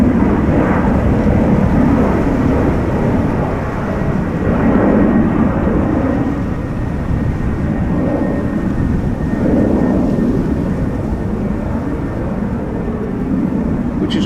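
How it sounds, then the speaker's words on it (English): A TUI Boeing 767 airliner departs Amsterdam Schiphol, its engines a loud, steady, broad roar that swells and rumbles continuously up close throughout. "It's the TUI 767."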